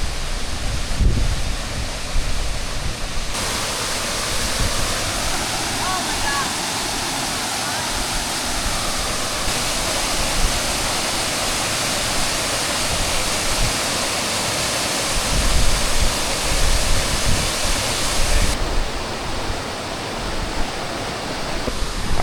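Steady rushing roar of Wright Creek Falls, a waterfall tucked at the back of a cove reached by boat in South Carolina, a dense continuous wash of falling water heard up close, with no talk over it.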